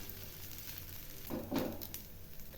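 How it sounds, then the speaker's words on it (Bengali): Raw pumpkin batter frying in a lightly oiled pan, a soft steady sizzle with a few scraping and spreading sounds from a utensil, close and fairly quiet. "এখন একটা প্যান বসিয়েছি, প্যানে অল্প তেল ছড়িয়েছি। এবার আমি এর মধ্যে এগুলি ছড়িয়ে দিচ্ছি।"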